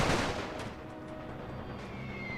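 Distant machine gun fire in a World War I strategy video game, a faint, rumbling rattle of gunfire under a steady background wash, with a louder burst at the start.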